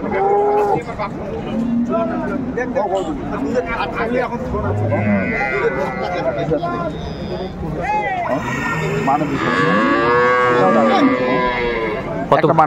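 Dairy cows and calves moo repeatedly at a busy cattle market in Ambari, Dinajpur, loud drawn-out calls overlapping near and far over a constant hubbub of people talking.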